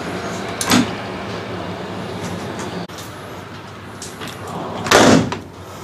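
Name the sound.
hotel room window being closed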